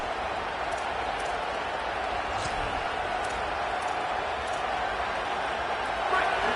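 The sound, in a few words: stadium crowd noise at college football game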